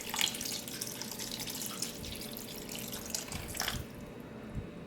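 Water from a tap runs steadily into a can before being added to a pot of vegan rice dressing, making a close, continuous splashing rush with a faint bubbling texture.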